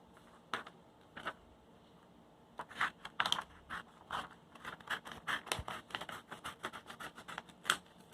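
Scissors snip through paper cutting out a ghost face, a run of quick, irregular close clicks and crisp snips, quiet and alone with no talking.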